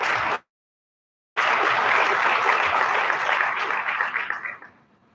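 Audience applause at a keynote address by South Africa's Deputy President at a youth business event, a short burst cut off, then sustained dense clapping for about three seconds before fading out.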